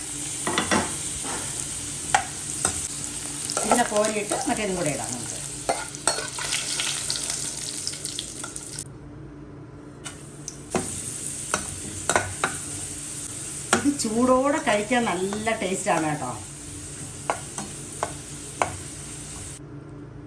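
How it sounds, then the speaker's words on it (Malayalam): Broken pappadam pieces fry in hot oil in a pan on the stove, giving a steady crackling sizzle with bursts of stirring and scraping, while someone talks over the cooking. "ഒരു പാൻ അടുപ്പത്ത് വെച്ച് എണ്ണ ചൂടായിട്ടുണ്ട് അന്നേരം നമുക്ക് ഈ നുറുക്കി വെച്ചേക്കുന്ന പപ്പടം ഒരു രണ്ട് പ്രാവശ്യമായിട്ട് ഇട്ടങ്ങ് വറുത്തെടുക്കാം"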